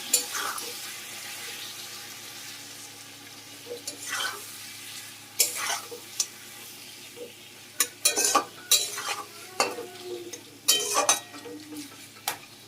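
Lamb meat frying in a pan over a medium-low flame, a steady low sizzle broken by repeated loud spatula scrapes and stirring clatter that grow busier toward the end, with no talking.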